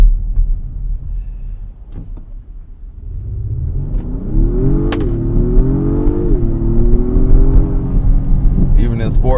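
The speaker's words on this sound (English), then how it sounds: "So I put the pedal down to the floor, and it was nothing, and then it took off eventually." An Acura MDX Type S at full throttle, its engine note climbing from a low idle rumble into a rising, sustained mid-pitched roar after a short lag, heard from inside the cabin with a person talking over it.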